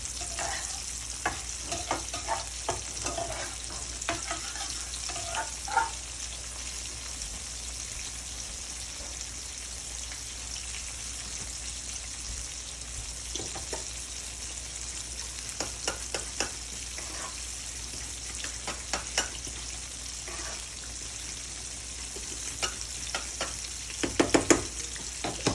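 Fish frying in a pan of hot oil for Southern-style fish and grits, a steady close sizzle with scattered crackles and pops running throughout, no talking.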